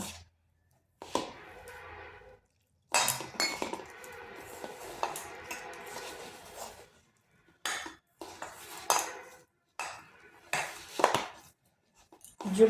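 Semolina dough for a crispy snack being mixed by hand with a little water in a bowl, heard as scattered close clinks and scrapes in short bursts separated by quiet gaps.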